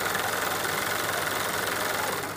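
An embroidery sewing machine running steadily, a constant mid-pitched motorized whir and rapid needle chatter close by, with no voices and a slight fade at the end.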